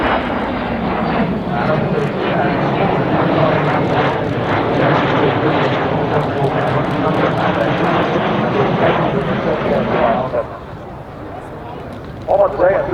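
A restored Hawker Hunter jet passes at the Sanicole Airshow, a loud, sustained roaring rush with shifting pitch that holds for about ten seconds before cutting away, with a voice commenting over it.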